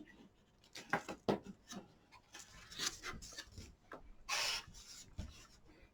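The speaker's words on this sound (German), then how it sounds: "streiche das Ganze nochmal mit dem Falzbein ordentlich fest" A bone folder rubs and presses firmly along paper edges on a pop-up matchbox craft, giving quiet, close scraping strokes in short irregular bursts.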